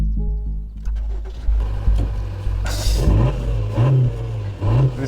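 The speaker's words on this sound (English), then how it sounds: "please turn the ignition on" A car cranks over and catches, then its engine revs in several short blips close by, with low rumbling between bursts.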